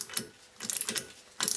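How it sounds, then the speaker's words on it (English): A 24mm socket ratchet tightens the castellated rear hub nut on a Lotus Elan M100, giving short bursts of close, crisp clicking in three quick strokes with pauses between, with no voices. "with a 24mm socket, tighten the castellated nut"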